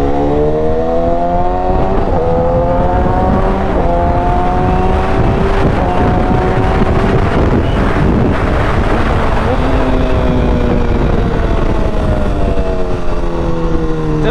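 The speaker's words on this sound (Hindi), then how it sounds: "चलो अभी क्विक शिफ्टर ऑटो ब्लिपर दोनों का साउंड सुना दिए" BMW superbike working through its quick shifter and auto blipper, loud and close, with rising engine revs stepping through gear changes, sharp blips and pops between shifts, and heavy wind rush throughout.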